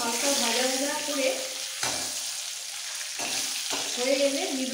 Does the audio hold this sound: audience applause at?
no